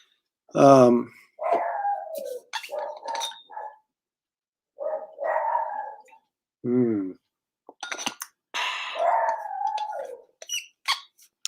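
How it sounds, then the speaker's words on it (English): Indoors, a dog barks in several sharp bursts spread across the clip. Someone talks in between and over the barks. "It's my dog barking."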